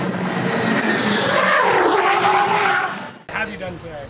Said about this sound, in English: We have been drifting today.